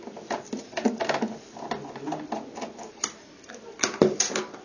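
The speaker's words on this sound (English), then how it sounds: "you need to remove the two screws on the front end side of the front bezel" Screws are worked out of the front bezel of a JetStor 3U 16-bay storage subsystem on a server rack, heard as a run of small close clicks, ticks and metallic scrapes in an irregular rhythm.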